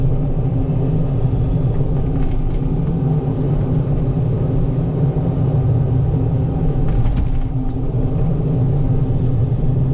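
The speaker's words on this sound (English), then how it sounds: "Let's see if we can pry these rocks out with the tilty tilts" A Komatsu PC88 MR-8 excavator with a tilt bucket prying rocks loose while digging an addition's frost footer: a loud, steady diesel rumble throughout, with a couple of brief clanking scrapes from the bucket.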